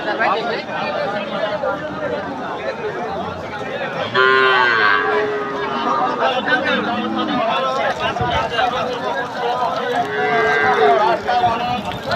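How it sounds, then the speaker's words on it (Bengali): Cattle at a busy Qurbani livestock market on a bypass, with moos and lowing rising over a dense crowd babble and nearby talk throughout. "আমার সামনে সব ধরনের গরু দেখেন"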